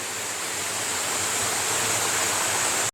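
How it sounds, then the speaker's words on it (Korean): A small waterfall and mountain stream rush beside a roadside trail in the Ssanggok valley of Goesan, Korea, a constant close hiss of falling and flowing water with no voices. "길가에 거의 다 와가지고 있는 작은 폭포 길가로 나갑니다."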